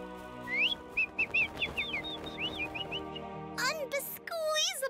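Cartoon birds following a character to a feeder chirp in quick, bright, rising whistled tweets, several in a row, over a music bed, ending with a louder burst of warbling calls.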